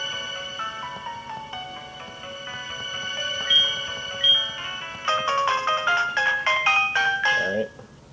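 An incoming phone call rings in a Pokémon video game as a bright electronic melody, first a slow chiming phrase, then a quicker run of stepped notes that stops abruptly.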